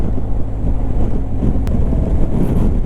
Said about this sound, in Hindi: विंडी है